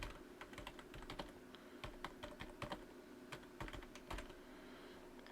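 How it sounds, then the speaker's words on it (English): Someone types a password on a computer keyboard, giving a steady run of close, crisp key clicks with brief pauses and a slightly heavier tap near the end, with nobody speaking. "type in the password"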